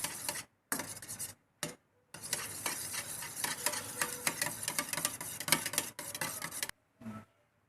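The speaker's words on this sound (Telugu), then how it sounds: "సాల్ట్ వేసుకొని బాగా మొత్తం మిక్స్ చేసుకోవాలి." Eggs beaten with salt in a bowl for egg chicken biryani, rapid close clinking of a utensil against the bowl in short bursts, then a longer continuous run of brisk whisking, with brief silent gaps and no speech.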